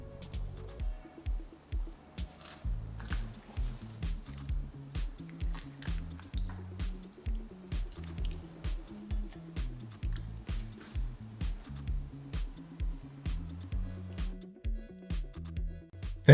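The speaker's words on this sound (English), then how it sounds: "Stir in 1 handful of curry leaves." Rhythmic wet squelching as a spoon stirs a handful of curry leaves through thick Goan pork curry in a pot, soft regular strokes repeating about once a second, close and quiet with no talking.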